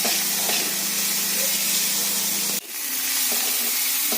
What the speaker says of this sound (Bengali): এবার পেঁয়াজটা ভাজা হতে থাকে